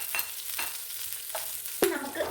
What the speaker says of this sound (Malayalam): എണ്ണ ചൂടായി വന്നിട്ടുണ്ട് അതിലേക്ക് ആദ്യമേ കാന്താരിമുളക് അരിഞ്ഞിട്ടിരിക്കുന്നിട്ട് വഴറ്റിയെടുക്കാം